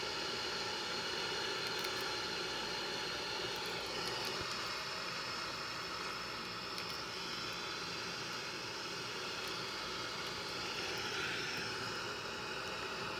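A Boeing 787 on approach for landing produces a steady, broad engine and airflow roar, a constant wash of noise with faint higher whines drifting through it and no speech.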